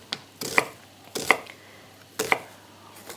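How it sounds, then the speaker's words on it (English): A knife chops a large red onion finely on a board, with three distinct clusters of crisp, close cuts separated by short pauses and no talk. "So I'm going to just chop it up as well"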